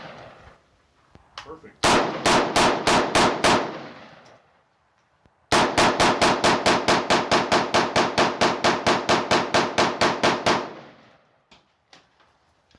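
Rifle shots from an AR with a Bear Creek Arsenal M4-profile .223 Wylde barrel: a short string of rapid, evenly spaced cracks, a pause, then a longer fast run of loud shots, with a brief spoken word near the end.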